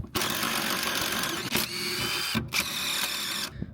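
Power tool spinning off exhaust mount bolts on a Renault Clio 172 Cup, a loud continuous mechanical whir with two short pauses, close by and without talk.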